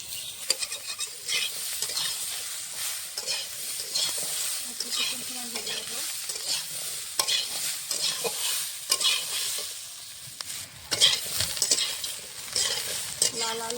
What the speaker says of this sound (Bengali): ডাঁটাটা ভালো করে ভেজে দিয়েছি